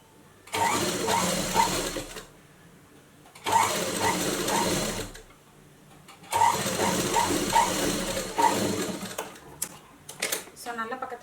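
A sewing machine stitches a blouse hook strip in three close, steady runs of rapid mechanical whirring, separated by short pauses, with a few clicks at the end.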